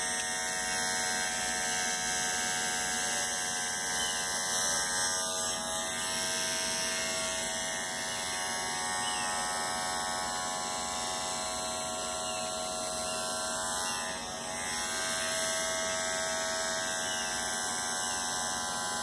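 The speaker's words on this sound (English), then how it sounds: "When your baby says shave my head, you shave her head." Electric hair clippers hum continuously and loudly while shaving a head into an undercut, a steady close buzz with slight wavering as the blade moves through hair, and no talking.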